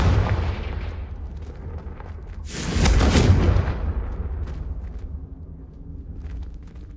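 A heavy blasting-spell explosion from the Hogwarts Legacy video game, a loud booming burst with crackling debris lasting about a second, rising out of a rumbling game soundscape that then settles back to softer ambience.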